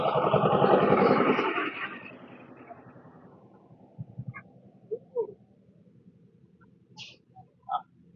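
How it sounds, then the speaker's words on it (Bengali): A speedboat engine roars loudly past at a water park at Dream Holiday Park in Narsingdi, then fades into the distance, leaving faint scattered clicks and chirps. "আমরা এই যে দেখলেন যে স্পিড বোট চলে যাচ্ছে"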